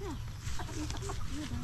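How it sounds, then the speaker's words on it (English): On a family farm in the Philippines, a rooster gives short clucks and chirps close by, under outdoor background noise and faint talking. "What's up there, pretty chicken?"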